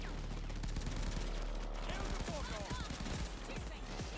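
Rapid gunfire during a heist firefight in the shooter Payday 2, dense overlapping bursts of automatic shots and impacts, loud and continuous, with voices talking underneath.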